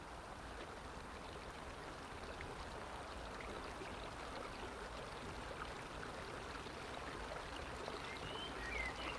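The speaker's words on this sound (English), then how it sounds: "you hear a little stream beside you" A small forest stream or brook flows gently and steadily, with a soft, continuous wash of water and no break in it. It sounds quiet and a little distant, and no one speaks.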